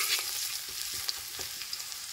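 Hot oil frying in a pan at a rural market cookstall, a steady faint sizzle with occasional small pops and crackles, no voices.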